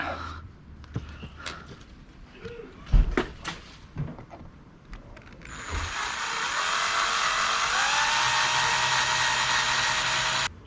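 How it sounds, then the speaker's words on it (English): A few scattered knocks and clatters, then a power drill boring through a broken kayak rudder bolt spins up and whines steadily at high pitch for several seconds, loud and close. "we're going to punch through with the next size drill bit"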